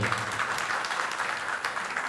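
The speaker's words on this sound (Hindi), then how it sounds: "हमें फिर से एक बार ताली बजानी चाहिए" Audience applause after a performance by a group of girls at a religious discourse gathering, a steady dense wash of clapping from a crowd that holds constant throughout.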